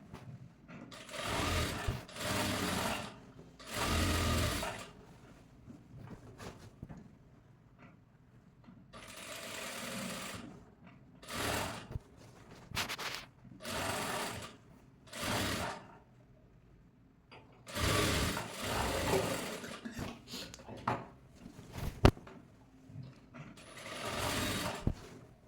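A sewing machine runs in repeated bursts of stitching on a princess cut blouse, its mechanical clatter stopping and starting between quieter handling sounds.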